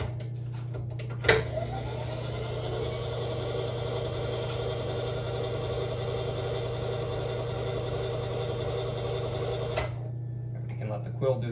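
A milling machine in a grandfather's machine shop runs steadily with a constant motor hum and a busy mechanical whir as the quill feeds down, with a brief knock near the start and the sound cutting off near the end.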